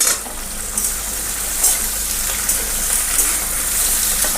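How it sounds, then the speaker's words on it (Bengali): Vegetables for a Malabar spinach and fish-head curry stirred in a hot pan, a constant hissing sizzle with soft scraping strokes rising at intervals. "এরপরে আমি একটু নাড়িয়ে দেবো এটাকে।"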